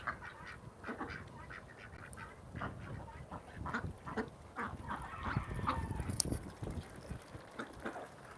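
Ducks on a duck farm, beside an iced-over pond on a very cold day, quack and honk in a continuous crowded chatter while being fed, with constant low background rustle and no clear talking.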